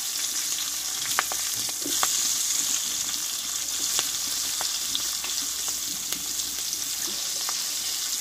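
Chopped chillies sizzle in hot oil in a pan for a tangy raw mango pickle, a loud, steady frying hiss broken by occasional sharp crackles and spatters, with no voices.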